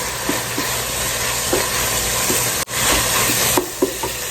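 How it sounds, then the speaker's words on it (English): Garlic cooking in a pot for Southern-style black-eyed peas gives off a steady, loud hiss and sizzle, broken by a few soft stirring knocks and one brief dropout. "we're going to go in now with our garlic. And we're just going to cook this for about a minute"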